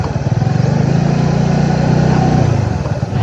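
A motorcycle engine runs steadily close by during a moto-camping trip to a beach resort, a loud, rough, low drone with a throbbing pulse that eases slightly near the end.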